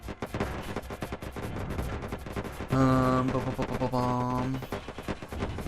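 Ship-mounted machine guns firing in Wayward Terran Frontier space combat, a fast continuous rattle of shots with a droning tone rising over it midway through.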